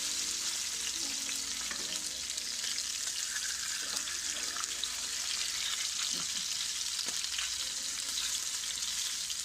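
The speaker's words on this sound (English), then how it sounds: "So while they are frying up on that side" Steady oil sizzle and crackle of green banana cornmeal dumplings frying fills the whole stretch, with a few faint clinks and scrapes; no one speaks.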